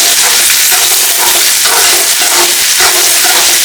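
Ginger sautéing with country chicken in a pan for a village-style curry gives a loud, continuous sizzle that fills the sound close up, with faint stirring pulses running through it.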